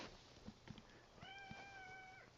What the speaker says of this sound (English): meow meow meow kitty